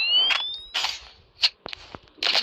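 Sharp game gunfire in Roblox, several short cracks spaced irregularly alongside synthetic electronic tones and other game effects, close and moderately loud.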